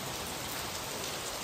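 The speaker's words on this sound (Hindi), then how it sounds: "फिर बारिश स्टार्ट हो गई भाई" Steady rain falls over the whole stretch, a dense even hiss of drops hitting surfaces in a hill household setting, with no voices and no breaks in the downpour.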